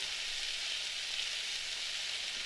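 Asparagus and celery sizzle in a hot stir-fry pan, a steady, hissing crackle of frying vegetables heard close and fairly quiet, with no voices.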